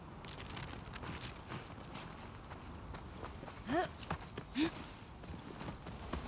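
Shimmer the horse walking in The Last of Us Part II, hooves clip-clopping in a steady, soft rhythm amid ambient game sound, with a couple of brief higher whinny-like calls.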